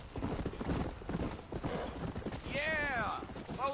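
Horse hooves clip-clop steadily in Red Dead Redemption, dense and close with a brief whinny near the end, and a voice talks over them.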